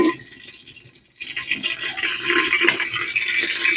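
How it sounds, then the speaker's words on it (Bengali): Mustard oil poured into a hot pot on the stove, a soft start followed by a sudden sustained bright hissing sizzle close up, with no talking. "প্রথমে আমি দিয়ে দেব সরষের তেল"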